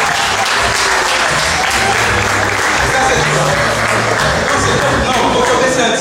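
A crowd at a quiz-show final in Paris bursts into loud, sustained applause, dense clapping that holds at full volume throughout, with voices mixed in underneath.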